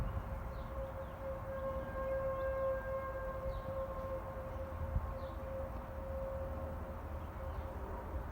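An ASC T-128 outdoor warning siren in Royse City sounds during a test, a steady sustained wail heard from a distance over a constant outdoor background.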